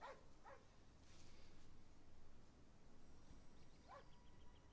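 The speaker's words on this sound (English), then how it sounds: "It's a dog." A dog in a movie scene gives faint, brief whimpers at the start and again near the end, heard distantly over a low background hum.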